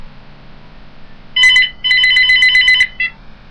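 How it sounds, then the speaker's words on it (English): A telephone rings with an incoming call. A short electronic ringtone burst is followed by a longer trilling ring and one brief final chirp, loud and close in an otherwise quiet room. "Hold on, I'm getting a phone call."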